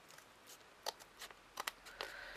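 Scissors cut the back panel of a miniature witch's chair in a few short, crisp snips spaced apart, close and quiet with no talking.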